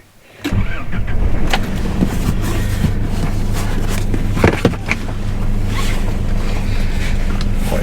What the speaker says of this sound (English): Always good driving the track